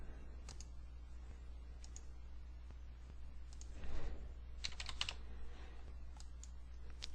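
Payment details typed on a computer keyboard, with quiet, irregular key clicks and short bursts of taps over a low steady hum.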